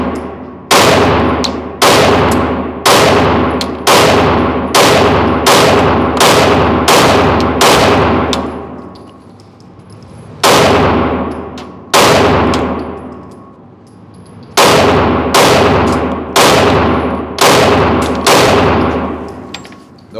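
A Glock 43X pistol fired at 10 yards with an extended magazine: many sharp, loud gunshots in quick strings with ringing tails, pausing between strings, with metallic clangs from steel targets.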